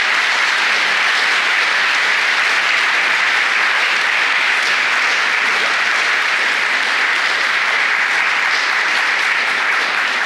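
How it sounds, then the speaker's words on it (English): Sustained, loud, even applause from an audience honoring panelists at a Pulitzer investigative journalism event in Jackson, Mississippi, a thick unbroken wash of clapping that lasts the full ten seconds. "Let's give our panelists a round of applause."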